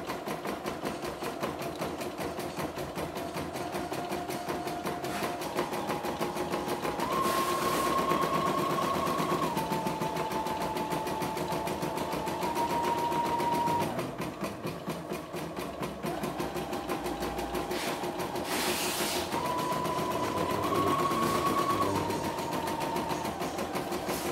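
A CNY E960 portable multifunction embroidery machine runs steadily and alone, its rapid needle chatter continuous and fairly loud, with the motor pitch stepping up and down in a repeating cycle.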